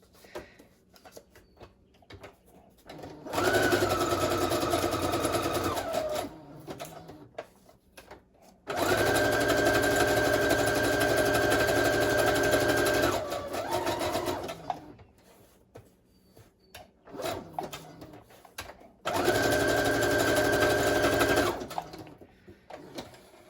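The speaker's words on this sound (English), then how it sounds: "I have my sewing machine set at a zigzag stitch, and we're just going to sew around the 3 corners" A sewing machine zigzag-stitches fabric in three bursts of steady whirring motor hum, separated by short quiet pauses, close and loud.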